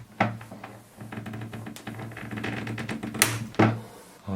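A blade cutting and scraping at the glued seam of a Hot Toys Darth Vader helmet, a series of close clicking, ticking scrapes with a few sharper snaps, no talking.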